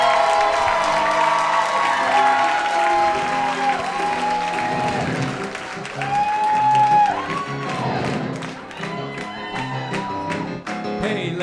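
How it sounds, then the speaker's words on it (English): Audience applause and cheering at a live comedy and theater show, a crowd's clapping and whoops running beneath sustained piano or instrumental tones, rising and falling in waves before thinning toward the end. "Big round of applause"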